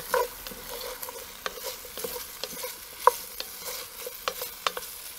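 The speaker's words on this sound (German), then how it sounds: "Braten die auch mit an, rühren alles gut durch." Potatoes and other ingredients for a Kasseler and Chinese cabbage one-pot frying in a Dutch oven, quiet sizzling beneath frequent scraping, clacking stirs of a spoon against the pot.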